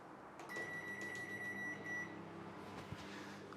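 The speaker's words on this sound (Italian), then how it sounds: "Facciamo partire anche il forno microonde." A microwave oven running off a BLUETTI AC500 power station with B300S battery, a steady tone beeping on as it starts, under a constant low hum and faint room noise, fairly quiet overall.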